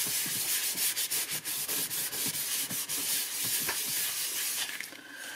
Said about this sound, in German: Und auch hier kann ich das jetzt so polieren.